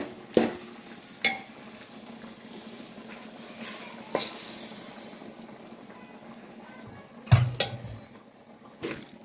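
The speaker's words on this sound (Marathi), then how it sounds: "हे सगळं मिक्स करून घेणार आहे" Rice and lentils are stirred in a pan with a spoon, giving soft scraping and sizzling with a few sharp knocks of the spoon against the pan, spread irregularly over a quiet background.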